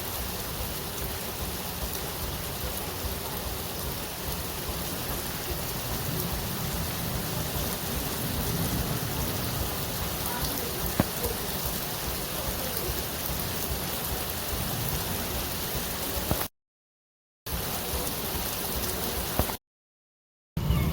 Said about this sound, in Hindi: बहुत मूसलाधार बारिश स्टार्ट हो गई है, ये आप देख सकते हैं।